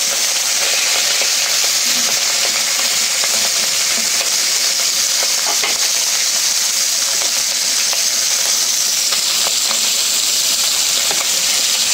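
Fish pieces fry in hot oil, producing a loud, steady, close sizzle and hiss that runs without a break and with no talking.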